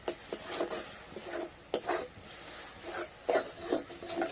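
A spoon scrapes and rasps against a pan as grated coconut filling cooked with crushed cardamom is stirred dry, giving soft uneven strokes that come and go with no voice.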